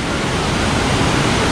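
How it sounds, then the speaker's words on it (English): The waterfall at Crystal Cascades near Cairns rushes in a loud, steady, even roar of falling water, close by, with no talking. "Have a look at the waterfall."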